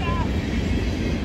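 A westbound train on the Chicago line rumbles past nearby, a dense, steady low roar of rolling wheels and engine filling the short moment with no break.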